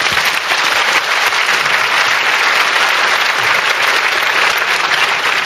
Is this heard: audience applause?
yes